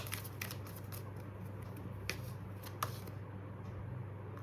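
A tarot card drawn from the deck, soft papery shuffling and light card slides with a couple of small flicks, quiet and close, with no talk.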